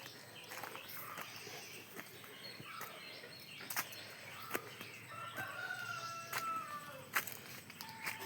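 A rooster crows in a backyard among hens during morning chores, a moderately distant call with other faint bird chirps and clucks over steady outdoor background noise.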